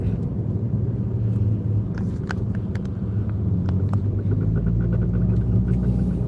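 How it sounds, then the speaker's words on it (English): Steady road traffic rumbling through a New York City street, close and continuous, with low engine drone, passing cars and scattered higher clatter over the constant wash, no voices. "Whoa, that's a lot of traffic to the right."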